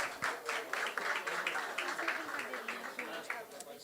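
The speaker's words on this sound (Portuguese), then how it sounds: "Uma salva de palmas para o Roberto também" Audience applause at a Rio de Janeiro energy and sustainability startup event: moderate, continuous clapping from a crowd, fairly faint and somewhat distant, with a voice speaking over it.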